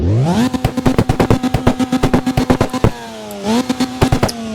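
A car engine in CarX Drift Racing Online revs hard in rapid repeated bursts, a loud buzzing rasp with sharp on-off pulses, falling off briefly near the end before climbing again, with no talk over it.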